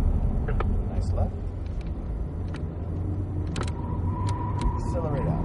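A Cadillac CTS-V Coupe engine rumbles steadily on the Circuit of the Americas race track, a loud, continuous low drone under cabin noise, with people talking over it throughout.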